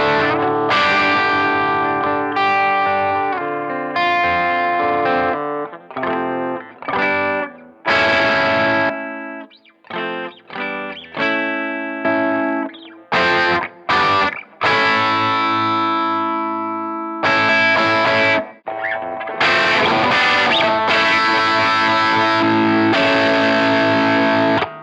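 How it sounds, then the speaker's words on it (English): Electric guitar through the distortion section of a Third Man Triple Threat pedal, loud and heavily saturated, playing chords and riffs in bursts with short silent gaps and no talking. "Okay, let's listen to the distortion."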